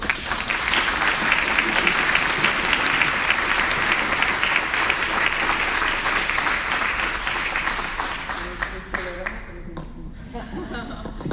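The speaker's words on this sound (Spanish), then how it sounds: "Un aplauso." Sustained applause from a crowd, steady and loud, with some chuckles mixed in, tapering slightly toward the end.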